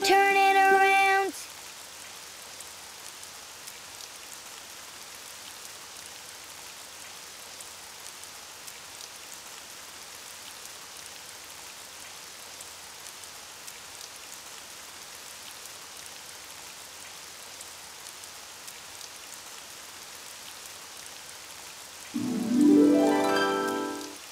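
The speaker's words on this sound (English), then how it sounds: "Oh, it's raining outside." Rain falls outside in a steady, soft hiss that continues alone through most of the stretch, with brief music at the start and end.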